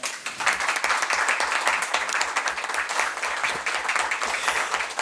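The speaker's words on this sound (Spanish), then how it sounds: "que diéramos un gran aplauso a la eminencia que tenemos hoy aquí" Audience at a university lecture applauds, sustained crowd clapping that is loud and even throughout, with no talking over it.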